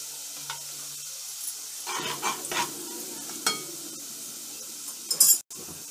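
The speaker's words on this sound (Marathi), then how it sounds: "आता आपण लाल मसाला टाकून घेऊया।" Red chili masala hitting hot oil with garlic and curry leaves for a tempering, giving a soft sizzle with a few stirring scrapes and clinks of a pan, ending in a brief louder clatter.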